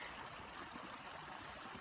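Creek water flows steadily in an outdoor setting after a morning of rain, giving a soft continuous rushing and trickling wash with no voices.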